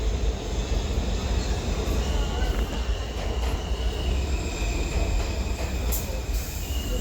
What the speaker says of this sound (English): we were on our way to board the E-train, heading downtown to the 911 Memorial.